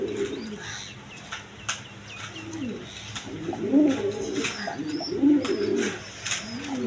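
Pigeons, including large Danish birds, coo softly at a pigeon farm, with low rolling calls repeating several times among faint chirps and light background noise.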